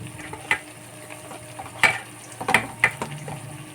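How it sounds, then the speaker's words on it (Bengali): Drumstick flower pakora fries in mustard oil, giving a soft bubbling sizzle broken by a few sharp clinks and scrapes of a utensil stirring in the pan, with no voices. "আমি চাইছি এটা সর্ষের তেলে ভাজতে তাই আমি ভাজলাম"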